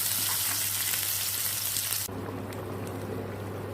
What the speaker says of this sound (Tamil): நல்ல வாசனை வருது வெங்காயம் தக்காளி எல்லாம் பச்சை மிளகாய் எல்லாம் நல்லா வதங்கிடுச்சு